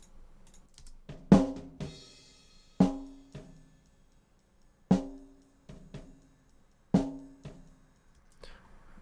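Playback of a recorded drum kit take in a home studio setup, with sharp snare hits landing every couple of seconds alongside kick and light cymbal wash, fairly close and dry, no talking.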